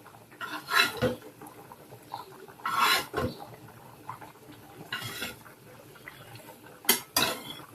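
Fish pieces go into a pan of tomato curry, giving scattered clinks and scrapes of a utensil against the pan in a few separate bursts with quiet gaps between them.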